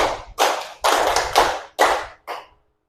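A classroom group clapping together in a counting game led by a teacher: five close, loud group claps with a slightly ragged edge, the last one softer, then silence.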